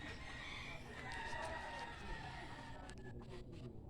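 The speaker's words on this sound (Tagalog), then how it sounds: "Si Manok." Faint chickens cluck and a rooster crows in the distance over a steady background rumble.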